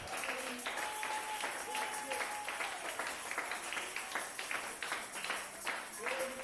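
Congregation in a church service applauding and cheering together, a dense sustained wash of clapping and voices with scattered shouts rising above it, steady and full throughout.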